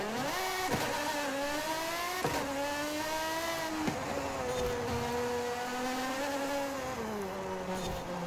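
A Lamborghini in the racing game Forza Horizon 5 revs hard and climbs through gear after gear, its engine note sweeping up and then dropping at each shift, loud and close with no talking.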